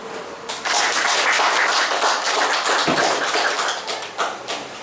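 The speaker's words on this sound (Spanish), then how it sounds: "Un aplauso." An audience at a literary gathering about friends, books and coffee applauds to welcome a speaker, a thick burst of many hands clapping that starts abruptly and holds steadily at close range before thinning slightly at the end.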